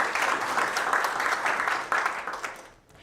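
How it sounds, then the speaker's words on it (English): An awards-ceremony crowd applauding steadily, dense clapping from a roomful of people that fades out near the end. "So another round of applause for Mr. Caravan."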